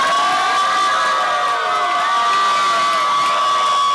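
Canadian fans in a concert crowd cheer and shout loudly and continuously, with high whoops and screams filling the whole stretch.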